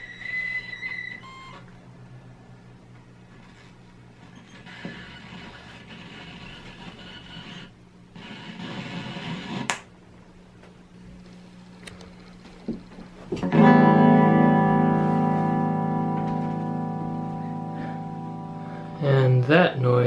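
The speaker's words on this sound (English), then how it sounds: "The dial-up modem noises that this beast makes when you turn it on." A guitar with piezo pickups run through a hexaphonic Pi system makes dial-up-modem-like noises at power-on: scattered electronic chirps, bursts of hiss and clicks, then a loud sustained buzzing tone that slowly fades before a final crackle.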